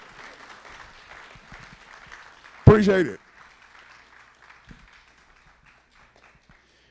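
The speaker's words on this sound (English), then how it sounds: "Give the Lord a good hand clap." A church congregation breaks into a short, loud burst of hand clapping that fades quickly, between stretches of someone talking quietly.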